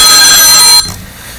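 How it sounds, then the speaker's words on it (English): A telephone ringing loudly during a press conference, a steady bright electronic ring for most of the moment that cuts off abruptly, leaving quiet room tone. "that's the phone call."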